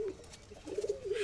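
A breeding pair of pigeons, a green Madras and a white Andhra, coo in a loft with low rolling calls that are close and clear, swelling toward the end.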